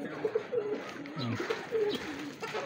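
Pigeons cooing softly nearby in repeated low, throaty murmurs, faint and close with light background rustle.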